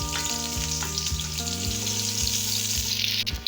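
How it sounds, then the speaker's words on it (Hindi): Onions frying in hot oil in a pan for a restaurant-style mixed dal, a continuous close sizzle and crackle with a low background hum throughout. "ऑयल गर्म हो चुका है, अब इसमें डाल देंगे प्याज।"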